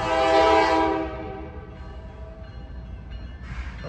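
A Norfolk Southern freight train sounds a loud horn blast in Hamilton, the tone cutting off after about a second and leaving the low rumble of the passing train.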